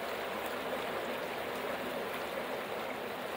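Water sloshes and trickles steadily as top layers of material are washed out of a gold pan while panning in Fairplay, Colorado, a close, continuous streaming wash with no talking.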